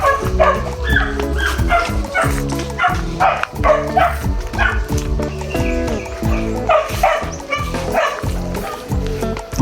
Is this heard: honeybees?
no